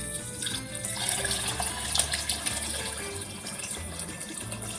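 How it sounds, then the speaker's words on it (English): Tap water runs into a large pot of navy beans, covering them for soup, a steady close splashing pour that goes on without talking. "And I'm gonna cover it with water."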